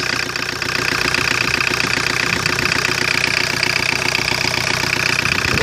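A 1985 Ford Escort with a Mazda RF diesel engine idles after its first start in three years, sitting in a carport, with a steady, loud, rough knocking diesel clatter running throughout.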